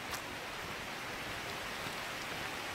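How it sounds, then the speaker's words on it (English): Rain falling on a jungle trekking path, a steady dense hiss with no breaks, fairly loud and continuous, heard alone with no talk. "I'm pretty much sure it's the rain."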